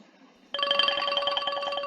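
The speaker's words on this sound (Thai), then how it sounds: "เนี่ยแบบนี้เขาเรียกว่าการกรอนะคะ" A tremolo roll (kro) played on a Thai percussion instrument: rapid, evenly repeated bright struck tones that blend into one sustained ringing pitch, starting suddenly and continuing steadily to the end.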